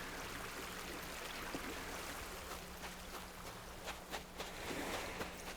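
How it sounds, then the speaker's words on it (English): Gentle water lapping along a beach in Animal Crossing: New Horizons, a soft steady wash of surf and breeze that stays low and continuous throughout, with no voices. "enjoy the sound of the water"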